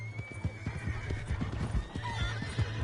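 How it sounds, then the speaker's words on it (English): Hooves clip-clop in a steady rhythm as a horse trots in the Fortnite video game, close and clear, with a brief whinny-like call above the footfalls. "Hey, that's my horse!"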